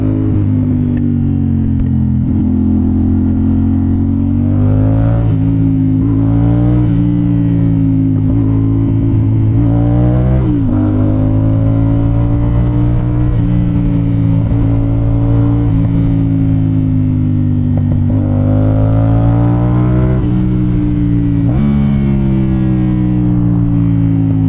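A 2024 CF Moto 450 SR-S two-cylinder motorcycle engine with the muffler removed, revving loud and close in repeated rising and falling bursts over a deep, continuous rumble.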